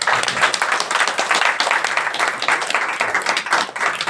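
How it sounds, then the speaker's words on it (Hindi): A church congregation claps and applauds together at a sermon, a dense, steady burst of many hands sustained throughout at close range. "जोरदार प्रभु के लिए ताली बजाइए।"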